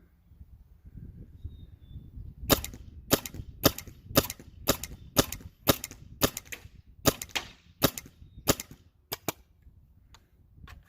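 Paintball tank gun with CF20 magazines firing First Strike rounds, about sixteen sharp, loud cracking shots in irregular succession, close by against a quiet background.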